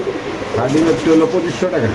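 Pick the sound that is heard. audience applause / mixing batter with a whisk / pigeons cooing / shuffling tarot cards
pigeons cooing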